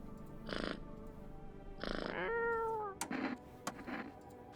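A pet cat meows several times, drawn-out vocal cries with clear rising and falling tones, spaced a second or so apart, close and fairly loud, with a few sharp clicks and no talk.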